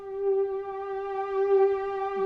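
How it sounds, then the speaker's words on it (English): Synthesizer pad in Logic Pro X holding a single sustained tone rich in evenly spaced harmonics, gradually growing brighter and slightly louder as the mod wheel is pushed up; quiet and alone, no talking. "you hear it just getting a little brighter and a little louder."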